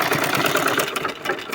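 Sewing machine stitching a ribbon onto a garment, a steady fast mechanical whir and clatter running close and loud throughout.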